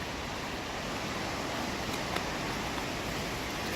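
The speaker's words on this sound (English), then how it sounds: "You can probably hear the waterfalls in the background." Steady broadband rush of waterfalls near the top of the falls in the Economy Falls hiking area, a constant even roar filling the background with no talking.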